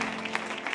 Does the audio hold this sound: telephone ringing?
no